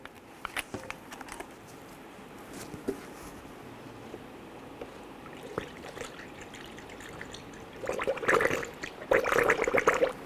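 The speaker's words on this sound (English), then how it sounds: "So now go ahead and fill up our radiator." Coolant poured into the radiator of a 1997-2006 Jeep Wrangler: faint scattered trickling at first, then louder, gurgling splashes in two bursts near the end, close and quiet overall.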